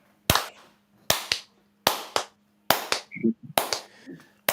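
Five slow, loud, sharp hand claps ring out one after another, each with a short room echo, in the style of Denzel Washington's clap from Training Day. A voice briefly murmurs between the last few claps.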